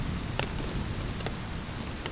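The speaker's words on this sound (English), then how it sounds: "it's raining, it's storming" Heavy rain falls during a storm as a steady, dense, close hiss of drops drumming on a surface, with a few sharper taps standing out. No voices.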